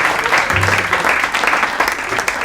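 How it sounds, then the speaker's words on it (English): An audience bursts into loud, dense applause for an announcer, a steady crackle of many hands clapping close by. "A round of applause for our announcer"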